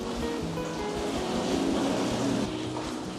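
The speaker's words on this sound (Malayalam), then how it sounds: "നമുക്ക് ആദ്യമേ മിക്സിയിലൊന്ന് കറക്കിയെടുത്ത് നോക്കാം" A kitchen mixer grinder whirs loudly as it grinds soaked rice batter for uttapam, a dense continuous motor roar that holds steady without a break.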